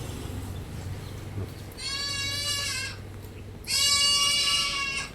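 A heavy goat of about 50 kg, three months pregnant and offered for sale, bleats twice. Each call is a loud, wavering cry that comes close by over a low background hum.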